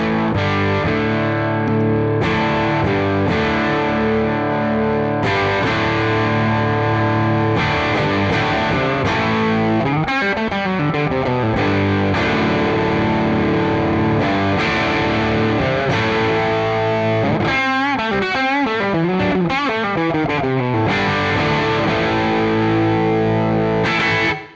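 An electric guitar played through an overdrive drive pedal gives crunchy, compressed distorted chords and riffs, with sustained strums and quicker note runs, loud and continuous, without any voices.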